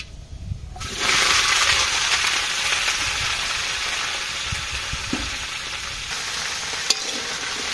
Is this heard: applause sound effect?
no